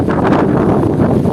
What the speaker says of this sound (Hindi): बहुत ज़्यादा तूफानी हवा है।